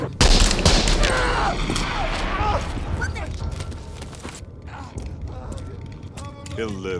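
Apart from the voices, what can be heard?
gunshot in Terminator 2 film scene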